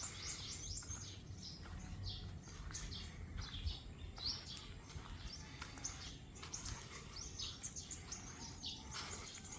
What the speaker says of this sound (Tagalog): Dito banda sa amin, daming ibon kumakanta,